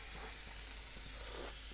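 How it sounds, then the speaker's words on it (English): Beef and tofu searing in a hot pan for sukiyaki, a steady, close, hissing sizzle that holds evenly for a couple of seconds with no voices. "we're gonna put our tofu pieces down"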